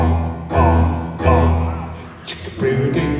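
Orchestral strings played arco with muted strings and a rough, croaking froggy bow sound, giving a few heavy bowed strokes in a row at close range.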